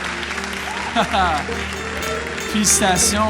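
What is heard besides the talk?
audience applause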